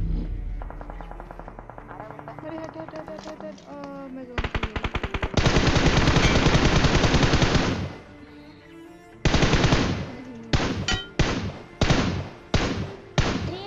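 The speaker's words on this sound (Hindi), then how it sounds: "अब उस तरफ से भी वैसे ही फायरिंग आता है" Video game battle gunfire: rapid automatic bursts rattle loudly, then a long sustained stream of shots, followed by several separate short volleys spaced a second or so apart.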